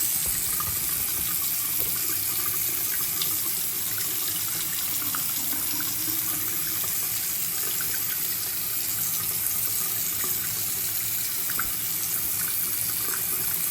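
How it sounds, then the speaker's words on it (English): Water running from a tap over a large cloth, a steady continuous hiss and splash of flowing water into a sink, even in level from start to finish with no voices. "I just ran it under some water"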